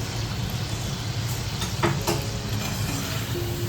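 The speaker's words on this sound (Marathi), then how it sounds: "तळतोय पण चांगला ऑलमोस्ट झाला आता" Samosas deep-frying in hot oil in a home kitchen, a steady soft bubbling sizzle that continues throughout at a low level, with a few faint clinks partway through.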